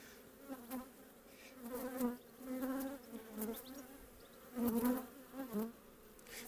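Steady insect buzzing from many honeybees and drones around an open hive, a dense droning hum with swelling bursts as they swarm close, no voices.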